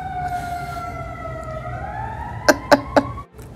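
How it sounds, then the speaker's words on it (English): An emergency vehicle siren passes outdoors, its wail sliding and fading at moderate distance, followed by three sharp bursts of a short, loud horn before it cuts off. "Oh, there's a siren, man."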